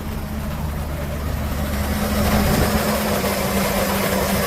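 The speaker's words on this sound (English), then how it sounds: "Engine sounds really good" A 2007 Chevrolet K3500 cab-chassis flatbed truck with the 6.0-liter gas V8 at just under 128,000 miles runs at a steady, even idle, a smooth close-up rumble with no knocking, swelling slightly louder partway through.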